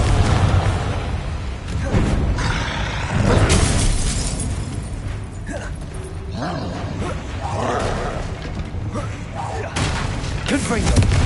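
Spell explosions from Confringo casts in Hogwarts Legacy during a troll fight, a dense run of repeated booming blasts and crackling bursts layered over busy game music and effects, with speech mixed in throughout.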